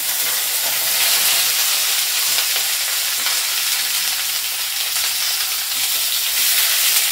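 Mustard seeds, cumin, curry leaves, onion and capsicum frying in hot oil, giving a steady, dense close-up sizzle and hiss that holds evenly throughout with no talking.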